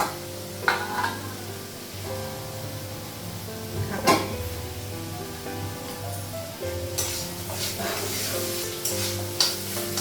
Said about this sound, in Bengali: শাক ভাজাটা হয়ে গেছে